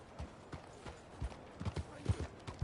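Horse hooves clip-clop in the Red Dead 2 video game, a steady series of soft, close thuds with uneven rhythm under a faint ambient bed.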